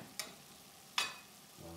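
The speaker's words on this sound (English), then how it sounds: "Let the corn just kind of cook there a little bit more." Corn cooking in a frying pan, a faint steady sizzle with two short scraping stirs standing out against the quiet background.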